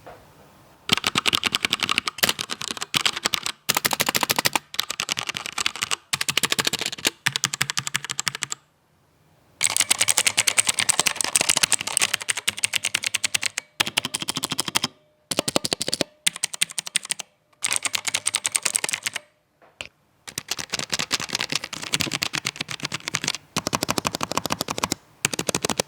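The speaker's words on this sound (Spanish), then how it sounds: "llegó la hora del test de sonido de este teclado" Rapid clacky typing bursts on a Logitech G915 TKL low-profile keyboard and several other brands' keyboards, loud and close, in repeated runs separated by short silent gaps.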